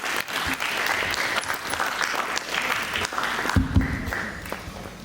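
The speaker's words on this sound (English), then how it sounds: "please have a round of applause for him" An audience at a book launch for an AI book at St Xavier's School in Ranchi applauds a speaker with steady, dense clapping throughout, swelling briefly near the end.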